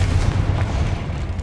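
A Confringo fire-blast spell cast in the Hogwarts Legacy video game, a dense, booming burst that rumbles steadily and loudly for over a second with no talk.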